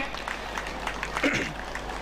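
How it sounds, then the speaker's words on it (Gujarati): An audience claps for the village donors at a community ceremony, a soft, even patter of applause with faint crowd noise and a brief louder burst near the middle. "આપણે સૌ તાળીઓથી સૌ દાતાશ્રીઓને વધાવીએ."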